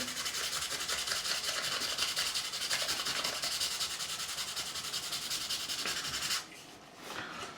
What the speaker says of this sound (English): we're just going to take a little bit of 400 grit sandpaper, sand the area